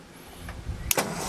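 A tractor engine cranks and catches near the end, a short burst of starter and ignition noise after a few quiet moments.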